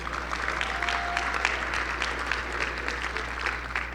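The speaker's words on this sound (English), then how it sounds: "Yes, you can clap for that." Audience applauding at a business hall of fame ceremony, steady dense clapping from a crowd throughout, moderately loud over a low hum in the hall.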